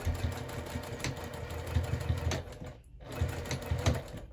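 A sewing machine stitches a straight line on a Divina handbag, a close, steady whirring hum that pauses briefly near the middle and then resumes.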